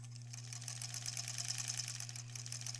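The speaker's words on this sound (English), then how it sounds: "I'll start sewing the squares on the middle maybe." A sewing machine hums steadily and fairly quietly, with a rapid, even stitching rattle throughout as it sews quilt squares together.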